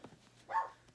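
A dog gives a single short bark indoors, a brief mid-pitched burst standing out near the middle of an otherwise quiet moment at home.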